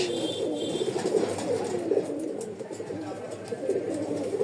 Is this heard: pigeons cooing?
yes